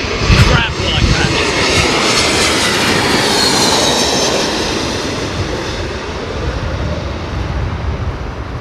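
A jet airliner lands in a crosswind at London Heathrow Airport with a loud, close roar of engines sweeping past, strongest at first and then fading to a steady rumble.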